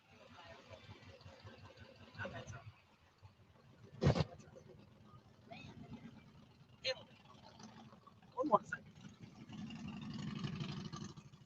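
A racing truck drives along Sturgis Main Street, its engine a faint low rumble that swells toward the end, under people talking and street noise.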